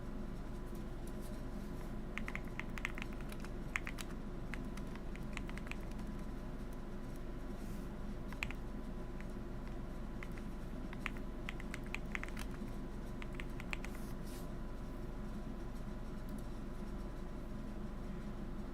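Steady typing on a computer keyboard, with bursts of light, quick key clicks coming and going over a constant low hum for the whole stretch.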